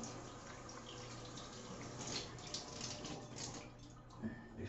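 Cold shower water running, a steady, soft hiss of spray with faint splashing and dripping, quiet and continuous throughout with no voices.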